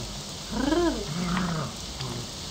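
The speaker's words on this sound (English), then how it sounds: "I'm not gonna make the dog move, I'm gonna make Indiana move." A dog growls in the video game Morrowind, a low rising-and-falling snarl near and moderately loud over a steady background hiss, followed by a shorter second growl.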